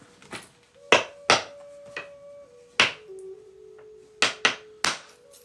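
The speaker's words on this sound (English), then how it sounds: "This little stone, even though it's pretty much too soft for a hammer stone, I've really liked it for edge turning." A small soft stone strikes the edge of a flint piece during knapping edge turning, giving a series of sharp, close clicks and taps spaced irregularly, about eight in all, with a faint steady tone running beneath.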